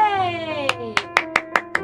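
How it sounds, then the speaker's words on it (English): A sung children's tune gives way to five or six crisp hand claps in an even rhythm, close and distinct, with music continuing underneath. "clap your hands."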